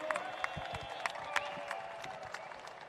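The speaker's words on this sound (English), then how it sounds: "Give a round of applause for their build." A crowd at a Harley-Davidson pre-show event applauds a custom motorcycle build, with scattered claps and cheers at moderate distance and a soft murmur under them, and no clear speech over the clapping.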